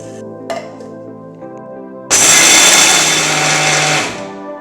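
Roasted peanuts ground coarsely in a kitchen grinder: a loud, dense whirring grind starts abruptly after a quieter lead-in of faint clinks and hum, then runs steadily for about two seconds before easing off.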